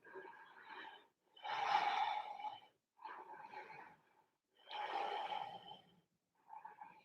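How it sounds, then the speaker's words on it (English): Slow, steady breathing during a yoga deep stretch, with soft airy inhales and exhales alternating in a calm rhythm of about four breaths, close and quiet. "Nice steady breaths here."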